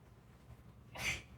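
A single short sneeze bursts out in a lecture room, brief and fairly close after a quiet stretch of room hum.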